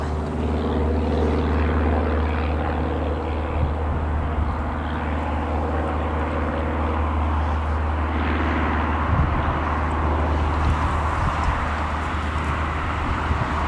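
An Emirates airliner at Newcastle Airport gives a continuous loud engine roar and drone, steady and fairly close, with no talk heard.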